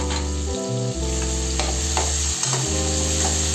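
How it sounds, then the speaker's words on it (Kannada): Green chillies and curry leaves sizzling as they roast in a pan for khichdi, a loud continuous frying crackle with stirring scrapes throughout and no voices. "ಸರಿಯಾಗಿ ರೋಸ್ಟ್ ಮಾಡಿಕೊಳ್ಳೋಣ."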